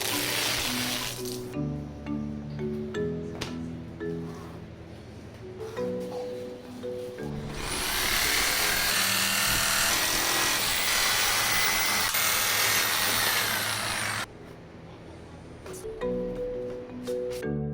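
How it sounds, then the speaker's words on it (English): A power tool cuts an aluminum composite panel along a traced outline, a loud sustained whine for several seconds that begins and stops abruptly, with background music around it. "I will trace and cut the outline from the aluminum composite panel."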